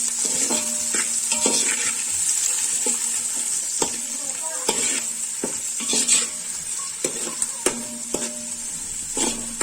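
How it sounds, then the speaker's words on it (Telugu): Onions deep frying in oil until reddish brown, for mutton biryani, make a bright continuous sizzle close up, broken by repeated spatula scrapes and knocks against the pan in an irregular rhythm. "బాగా ఫ్రై అవ్వాలి, అంటే రెడ్డిష్ బ్రౌన్ గా రావాలి ఈ ఆనియన్స్ అనేటివి"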